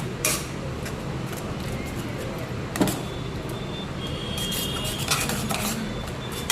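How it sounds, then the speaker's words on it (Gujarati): A spoon scrapes and clinks against a pot as a ready-made misal pav masala is stirred into the mixture, a steady busy scraping with a few sharper knocks under a continuous background hum. "બધું મિક્સ કરી દેવાનું બરાબર."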